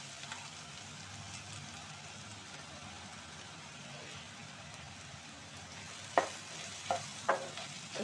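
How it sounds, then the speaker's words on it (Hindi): Noodle masala seasoned with chilli flakes cooks over a low flame for Hakka noodles, giving a soft, faint simmering hiss. Near the end, a few sharp scrapes of stirring come in quick succession. There is no speech. "अब इसको हम स्लो फ्लेम पे 2 मिनट के लिए कुक कर रहे हैं।"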